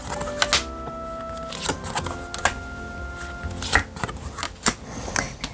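Tarot cards are shuffled and drawn at close range: a run of crisp, irregular clicks and flicks from handled cards, with sharp papery snaps spaced through the clip and no speech over them.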